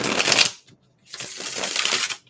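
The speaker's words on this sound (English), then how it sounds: "We're going to shuffle the cards." Tarot cards being shuffled by hand, two loud crisp riffling bursts separated by a short pause, close and alone.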